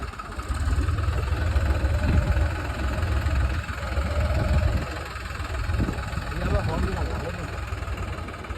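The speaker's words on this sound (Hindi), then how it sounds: "ट्रैक्टर में लगवा लो नीचे।" A tractor engine idles with a steady low chugging rumble, people talking over it nearby.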